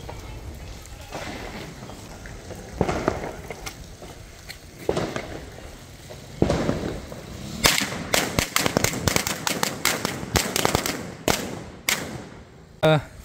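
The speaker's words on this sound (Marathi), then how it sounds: "लुंगी फटाका उडवणार आहे" Small lungi-style Diwali firecrackers burst outdoors in a fast string of sharp, crackling pops near the end, after a stretch of family voices and scattered thumps.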